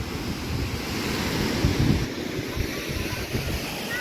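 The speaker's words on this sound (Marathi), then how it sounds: "वाहणारा धबधबा म्हणला तरी चालेल किंवा बंधारा." Water rushes over a small year-round dam on the Indrayani river at Kundamala in Maharashtra, a loud, continuous broadband roar with wind buffeting the microphone.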